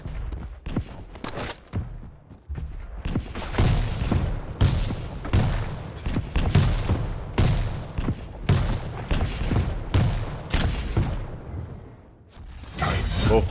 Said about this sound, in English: Both players exchanging rockets, but not enough.